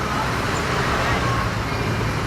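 Dense, steady road traffic roaring throughout, a continuous rumble of passing cars and heavier vehicles with no clear breaks.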